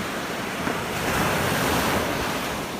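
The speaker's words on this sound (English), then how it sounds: "when you've got big waves like this crashing in" Big ocean waves crash onto the shore at Sanibel Island during high tide, a loud, steady wash of surf with wind noise and no lulls.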